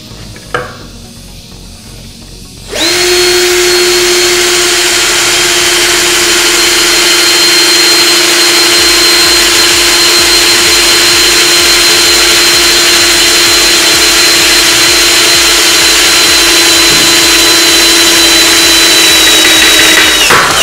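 Benz Werkz BZ 8105 cordless impact drill boring into the thin steel of an old hoe blade, about 2.4 mm thick: after a short quiet moment the motor spins up into a loud, steady high whine that holds unbroken for the rest of the clip.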